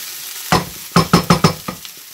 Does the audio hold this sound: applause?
no